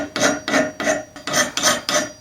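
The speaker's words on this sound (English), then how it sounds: "And filing takes forever" Hand filing of high spots off brass on a custom handmade steel track bicycle fork, six steady rasping strokes in an even back-and-forth rhythm, close and fairly loud with no talk.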